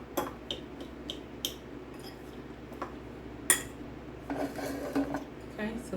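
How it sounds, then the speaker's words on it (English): A fork mashing and stirring brown sugar in a dish for a rum cake, giving sparse light metallic taps and scrapes against the bowl at close range, with a brief louder clink midway and soft rustling toward the end. "Use a fork to kind of stir it up, because that fork will get that brown sugar kind of loosen up."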